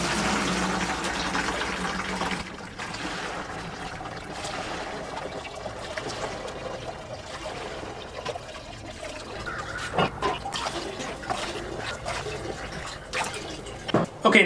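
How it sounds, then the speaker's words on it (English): Strained rhubarb leaf liquid pours from a pot into a bucket, a continuous splashing trickle with soft gurgles that stays fairly steady, then breaks into a few louder sloshes and drips near the end. "So start pouring this into the bucket."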